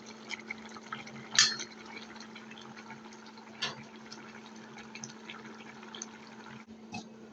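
A mixed small-fish curry (guda mach chorchori) simmers in a pot with quiet bubbling and gurgling. A steady hum runs underneath, and a couple of brief clinks or taps come through. There is no speech.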